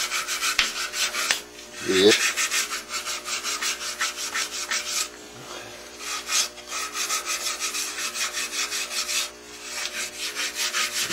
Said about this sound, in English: now for this we'll just hand sand